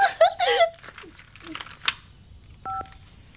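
A short electronic chirp sounds near the end, a brief two-tone notification beep following some quick speech and clicks.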